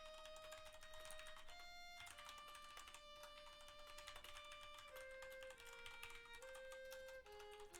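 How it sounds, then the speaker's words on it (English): Steady computer keyboard typing runs throughout at a constant level, mixed with sustained background music tones; no speech is heard. "I don't know why I can't type quick."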